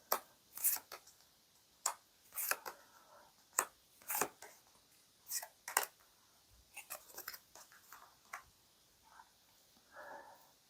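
Tarot cards being shuffled and drawn one at a time, producing sharp, separate snaps and flicks spaced a second or so apart, close-up and quiet, with soft rustling in the gaps.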